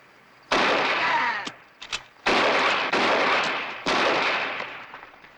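Several loud, sharp gunshots crack out one after another in a Western shootout, each blast followed by a decaying echo, with short pauses between shots.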